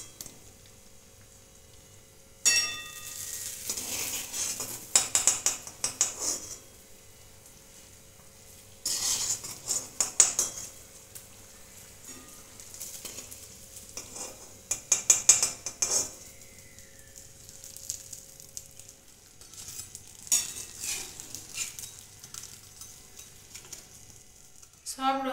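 Lentil-batter rasbora fritters, a sweet pitha, sizzle and crackle as they fry in oil, in recurring bursts alongside utensil clinks and stirring, with no talk.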